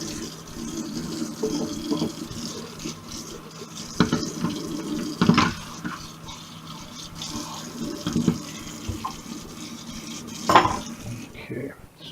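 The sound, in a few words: water running in a kitchen sink with a filter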